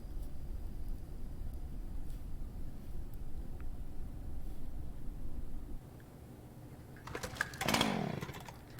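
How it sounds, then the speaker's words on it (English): A chainsaw in the horror game Deadly Premonition 2 growls low and rough under ambient horror noise, then drops off, and a sharp revving burst rises near the end. "Well, now there's definitely a chainsaw."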